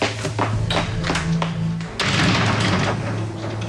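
A door shuts with a few dull thuds and taps, close and fairly loud, amid room noise during a dramatic scene.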